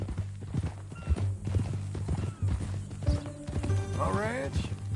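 Horse hooves clip-clop at an easy pace in Red Dead Redemption II, with a brief whinny near the end, under steady conversation between men.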